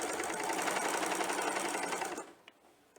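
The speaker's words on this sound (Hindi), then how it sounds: "So place in the machine and stitch to join the two shoulders." An electric sewing machine runs a steady, rapid stitch while joining the two shoulder seams of a garment, continuous and close for about two seconds before stopping, followed by a few faint handling clicks.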